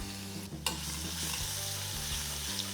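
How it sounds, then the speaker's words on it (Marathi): Crushed garlic and pieces of bay leaf sizzling in hot oil, a close, steady crackling fry with a sharp burst of spatter near the start as the garlic goes in. "तेल तापलं की त्याच्यात एका तमालपत्राचे एक दोन तीन तुकडे करून घातलेत त्याच्यात आपण ठेचलेला लसूण घालून घेणार आहोत"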